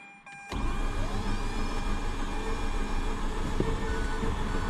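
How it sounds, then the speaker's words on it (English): A Mazda RX8 bought at auction has its starter cranking the engine, a loud, steady whirring grind that begins abruptly after a brief click and carries on without the engine catching. "The starter's spinning strong, that's for sure."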